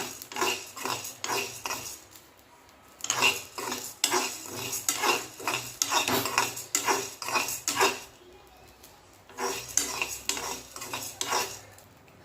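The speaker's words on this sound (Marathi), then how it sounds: "आता पाच मिनटं फुल गॅसवर सारखं हलवायचं" Sago pearls are stirred continuously in a pan while roasting over a high flame, making steady rhythmic scraping and clinking of a spoon against metal, fairly close, with brief pauses and no voice.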